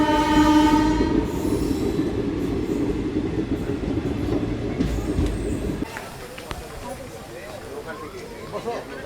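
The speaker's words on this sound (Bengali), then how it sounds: "আর আমাদের ট্রেন এসে পৌঁছালো রামপুরহাট জংশন।" A Kaviguru Express pulls into Rampurhat Junction, opening with a sustained horn blast over a heavy rolling rumble of wheels and carriages. The rumble drops sharply partway through, leaving quieter station noise.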